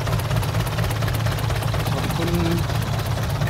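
A six-wheel dump truck engine hauls a tractor stuck in mud, giving a steady, loud low rumble throughout, with a brief spoken word over it.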